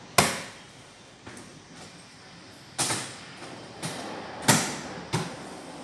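Lid of a 30-litre thermal hot box for meals being closed and sealed with side sealing rings, giving several sharp, close knocks and snaps with short creaks between them.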